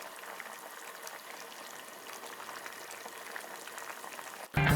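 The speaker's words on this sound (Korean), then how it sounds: "물을 자박하게 넣고 끓여준다" A pot of ramen broth with mussels simmering: a steady, close bubbling and gentle fizzing boil throughout, ending in a sudden short clatter.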